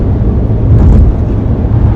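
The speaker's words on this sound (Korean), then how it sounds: "또 엔진음이 잘 들리네요. 카랑카랑해요." A Volvo S60 mild hybrid's engine hums steadily while driving, a dense low drone with road and wind rumble that swells briefly near the middle, with no talking.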